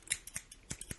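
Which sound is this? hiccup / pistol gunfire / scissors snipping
scissors snipping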